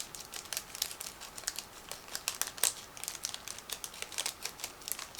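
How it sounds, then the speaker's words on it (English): Plastic crinkles and rustles in quick, close bursts as a sealed bag holding a 1/35 scale model kit of a German tank crew is pulled open. "plastic bag is sealed, so I'm going to open it in a second"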